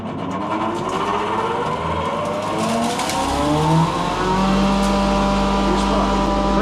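A 4 kW electric motor powered by a solar station spins up with a rising whine, its pitch climbing steadily and a strong low hum swelling beneath it. A voice is faintly heard near the start.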